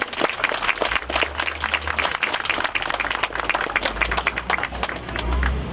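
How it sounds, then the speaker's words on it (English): An outdoor audience at the 2004 stone lion installation ceremony at Toronto's Chinatown gate claps for the opening pipers. The applause is loud and close, dense and continuous over low rumbling background noise. "can we get a round of applause for the wonderful pipers that are opening our ceremony this morning?"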